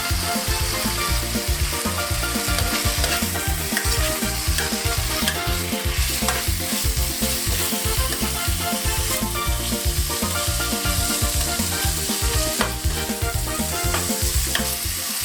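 Chicken pieces sizzle and fry in a pan for a coconut milk chicken dish, a loud, steady crackle close by with constant stirring and scraping, and no talking.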